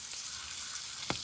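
A steak frying in butter over high heat sizzles with a steady, bright hiss, close and continuous, with one brief sharper pop near the end.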